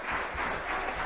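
Audience applause at a state legislative hearing, a steady unbroken patter of many hands clapping, moderately loud throughout the brief stretch with no talk.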